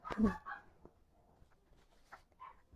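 A few dog barks and yips, one louder bark at the start, then softer scattered yelps in a quiet room.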